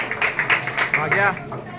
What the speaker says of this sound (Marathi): हा काय भाग्या टाळ्या वाजवी.